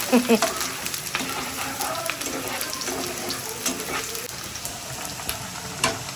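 Spices tempering in hot oil for khichuri sizzle steadily and close, with frequent crackling pops and a spoon stirring through the pan; no talk.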